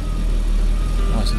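A Jaguar 3.6 automatic ticks over at idle just after starting, a steady low engine hum running continuously at close range with no break.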